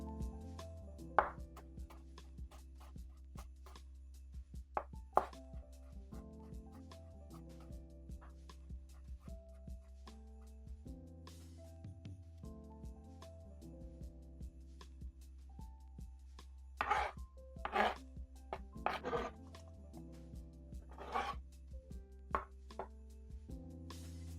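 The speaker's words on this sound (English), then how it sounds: "And you'll have your nicely chopped onion." A knife chopping onion on a board: irregular, sharp taps come in scattered bursts, clustering more densely toward the end, over a quiet steady tonal background.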